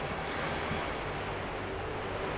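Gentle ocean waves lap steadily around a small boat drifting on open water in The Legend of Zelda: The Wind Waker HD, a soft continuous wash with breezy hiss and no talking.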